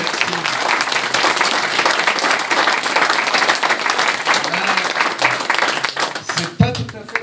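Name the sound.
audience applause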